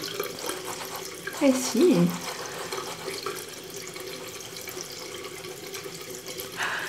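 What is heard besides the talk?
water running from a tap to rewet a brush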